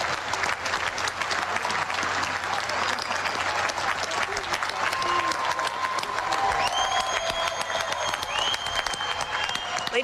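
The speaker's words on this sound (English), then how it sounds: "please join me in saluting with our applause the graduates of the United States Naval War College" Sustained applause honoring the U.S. Naval War College class of 2020 at a graduation ceremony, a steady crowd roar of clapping with a few thin tonal notes rising over it in the second half.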